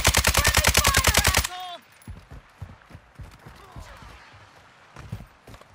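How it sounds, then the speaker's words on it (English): Automatic gunfire in Call of Duty Modern Warfare II: a loud, rapid burst of shots fires without a break, then it stops and scattered single shots and impacts follow at a lower level. "we're getting shot from above."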